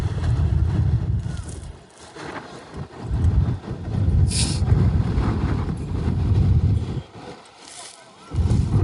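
Strong wind buffeting the microphone at an outdoor football match, rumbling gusts that rise and drop, with a brief hiss of noise and faint speech.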